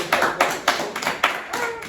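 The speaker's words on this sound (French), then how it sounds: "Ça s'applaudit là, ça s'applaudit." A small group claps, a series of sharp bursts of applause up close, with no voices.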